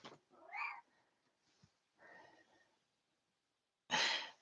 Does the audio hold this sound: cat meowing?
yes